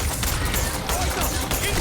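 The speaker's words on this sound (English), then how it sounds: "Explosion! Explosion!" Loud, dense explosion burst from the Starfield video game, a sustained rumbling roar with crackling bursts filling the whole moment close up.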